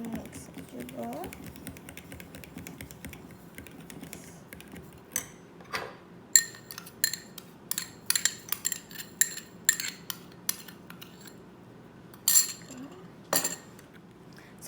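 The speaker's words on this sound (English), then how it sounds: "Mix it together." Metal spoon clinking against a bowl while banana bread batter with sugar is mixed by hand, a run of sharp irregular taps and scrapes over a quiet room, with talking early on.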